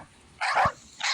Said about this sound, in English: Say dog barks.